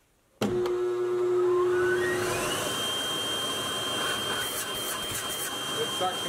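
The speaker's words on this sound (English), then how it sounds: "All right, let's turn on our vacuum." A vacuum pump for a lathe vacuum chuck switches on abruptly and spins up with a rising whine, then settles into a loud, steady hum and airy rush close to the microphone.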